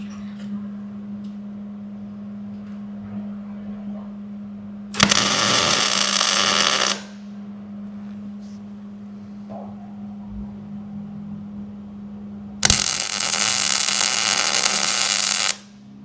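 Two bursts of welding crackle, about two and three seconds each, tack a triangulated 4-link Ford 9-inch rear axle, loud and harsh over a steady low electrical hum.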